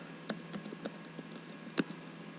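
Quiet typing on a computer keyboard, a handful of light, irregular key clicks with one sharper tap, close and alone without voices.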